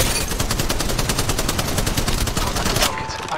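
Rapid automatic gunfire in the mobile battle royale game Apex Legends Mobile, a loud continuous burst of closely spaced shots lasting nearly the whole stretch before cutting off.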